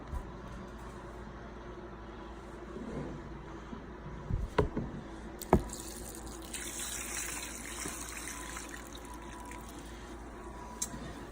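Water pours and splashes into the top reservoir of a fodder-growing tray, with a few sharp clunks and clicks partway through, over a steady background hiss.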